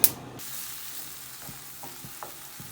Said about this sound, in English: you can saute your garlic in a skillet for a few minutes